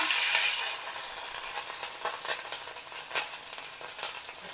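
Green chillies dropped into hot oil for tempering Maggi, a loud burst of sizzling at the start settling into steady crackling frying with small spatters and stirring, close and without talk.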